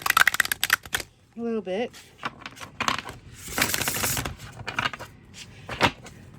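Tarot cards are split and shuffled in bursts of crisp riffling and flicking under a nearby voice, with a short spoken phrase and a pause between handling noises.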